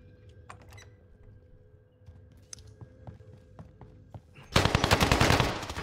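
Gunfire in Call of Duty Warzone Rebirth: a few scattered clicks and light shuffling give way to a sudden, close burst of rapid automatic fire that continues to the end.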